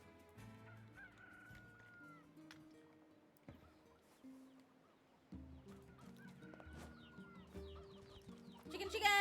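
Game chickens clucking and squawking in Nier Replicant, short calls scattered over steady background music, growing louder toward the end.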